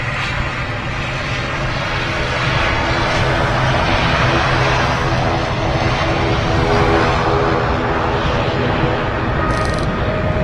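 A Boeing 787 Dreamliner lands on runway 05 left at Manchester Airport, a loud continuous jet engine roar that holds steady for the whole stretch, heard alone.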